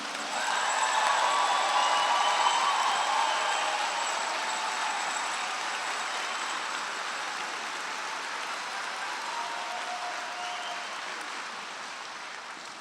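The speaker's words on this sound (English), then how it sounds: "Let's have a round of applause for all of these graduates." A large audience at a College of Natural Resources graduation ceremony applauds its graduates, a dense, steady wash of clapping from a distance that swells early, then eases slightly and carries on for over twelve seconds without voices.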